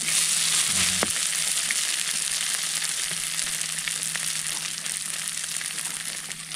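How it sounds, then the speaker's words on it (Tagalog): Ground pork for an asado filling sautés in a pan with a steady loud sizzle and hiss throughout, plus a brief clank of a utensil near the start and no talking. "Ginisa ko lang yan"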